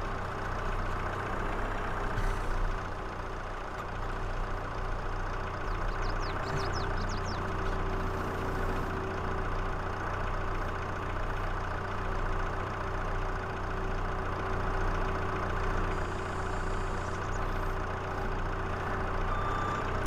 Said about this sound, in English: we'll have to grab the tractor